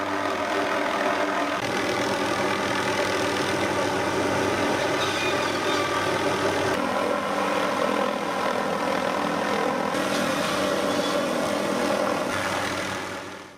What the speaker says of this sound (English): The tree saw hangs below the helicopter from an aluminum tube